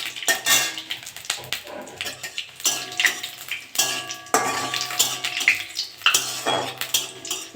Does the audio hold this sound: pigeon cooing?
no